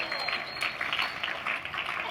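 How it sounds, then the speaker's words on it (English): Audience applause at a university undergraduate commencement ceremony, steady dense clapping from a large crowd lasting a couple of seconds at moderate level. "give yourself a round of applause"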